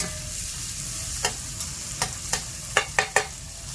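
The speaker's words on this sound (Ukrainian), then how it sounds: "Значить, пора засипати цибулю." Onion fries in a pan under a continuous sizzle while a utensil stirs it, making a series of sharp scraping knocks that come faster toward the end.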